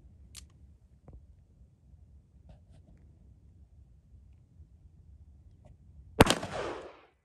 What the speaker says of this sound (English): 38 special out of this feels like I'm shooting a 22